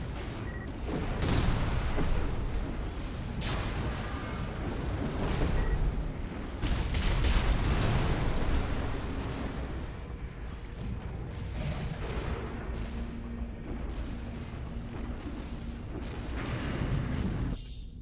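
A shoulder-mounted missile launcher on a mech fires in a video game, producing a dense run of booming, blasting volleys and explosions, loud and continuous, with sharper bursts scattered across nearly twenty seconds.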